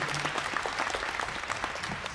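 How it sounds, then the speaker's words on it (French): Audience at a Toulouse convention actor panel clapping for Kevin McNally, brisk scattered claps from a modest crowd, close and steady throughout. "Applaudissements s'il vous plaît pour Kevin."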